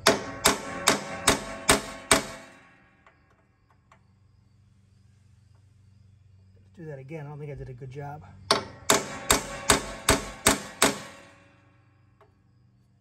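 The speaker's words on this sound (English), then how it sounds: "get a punch or something to start your hole here" A hammer strikes a metal center punch in two quick bursts of sharp, ringing taps, six or so blows each, with someone speaking between them.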